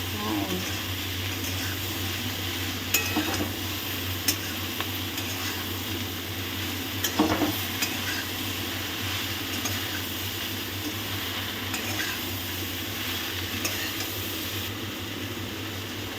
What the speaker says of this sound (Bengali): ভালো করে নাড়তে হবে